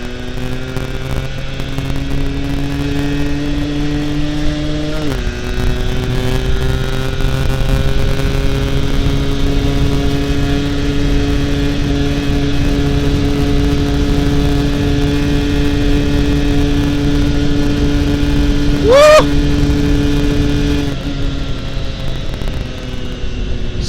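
A two-stroke Yamaha F1ZR motorcycle is ridden hard, its engine droning loud and steady, dropping briefly at a gear change, then climbing in pitch with a sharp rev before settling again.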